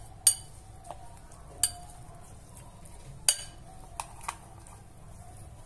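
A spoon or fork clinking against a bowl while chimichurri sauce with olive oil is mixed, a few sharp, scattered taps over a soft, quiet background.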